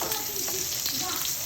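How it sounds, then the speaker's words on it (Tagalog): Garlic sizzles in hot oil in a pan, a steady crackling hiss with no pauses, moderately quiet and close. "Gisahin natin muna yung bawang idol hanggang mag brown brown"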